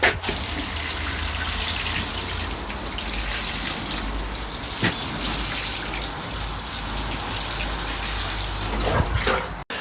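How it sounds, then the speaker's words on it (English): Water pours steadily from a can or hose over potted broad bean plants, a continuous close splashing and pattering with no speech. "But these are going to need a watering in as well."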